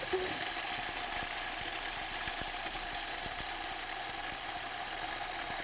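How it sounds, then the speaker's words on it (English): A food processor pulses ingredients down into crumbs. It makes a steady, loud motor drone with rattling and thumping from the blade, continuous through the whole clip with no one speaking. "I'm going to pulse them through the food processor until they break down into a crumb form"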